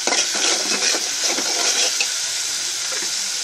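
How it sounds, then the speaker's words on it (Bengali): Spice paste with turmeric and cumin powder stir-fried in a pan, giving a steady, dense sizzle with soft scraping, close and continuous. "মশলাটা আমি ভালো করে কষিয়ে নিব।"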